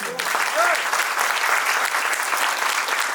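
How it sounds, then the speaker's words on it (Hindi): Loud, dense applause from an audience at a celebration event, steady clapping filling the whole moment with a faint whistle near the start. "मैं चाहूँगा हमारे रमाकांत सर के लिए जोरदार ताली।"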